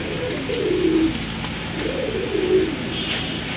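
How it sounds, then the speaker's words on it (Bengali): A pair of Rajgola pigeons in a breeder's loft coo twice at close range, each a soft rolling call over a steady background hum. "খুবই সুন্দর দেখার মতো এক জোড়া কবুতর"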